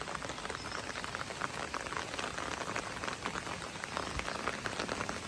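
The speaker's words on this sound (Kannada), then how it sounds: "ಇಷ್ಟ ತನಕ ಜೋರು ಮಳೆ ಬರ್ತಾಯಿತ್ತು, ಈಗಲೂ ಬರ್ತಾ ಇದೆ" Heavy rain pouring down outdoors, a continuous fine patter and hiss of drops with no talking, steady and fairly soft in level from start to finish.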